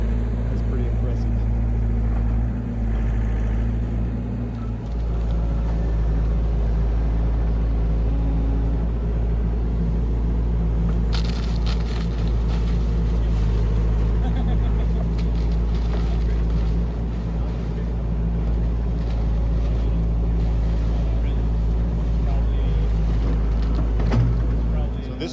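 A construction machine engine runs steadily while concrete is poured to encase electrical conduit, a loud continuous low rumble lasting throughout, with voices talking over it.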